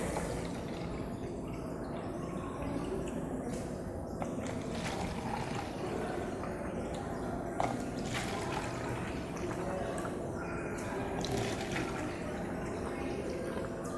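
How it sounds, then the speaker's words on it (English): Water poured into four cups for a chromatography experiment, a continuous splashing, trickling flow running close and steady without pause. "I'm gonna fill each cup with some water."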